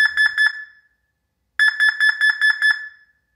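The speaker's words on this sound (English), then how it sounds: "The siren should beep in response." Two bursts of sharp, high electronic beeping from a wireless alarm siren: four rapid beeps, a pause of about a second, then six more, loud and close.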